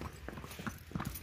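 Horse hooves clip-clop along a road in rural Bihar, a faint, uneven run of hard knocking steps at close to middle distance.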